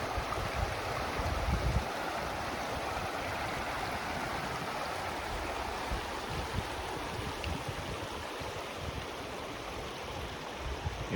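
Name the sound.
mountain stream flowing in a West Virginia valley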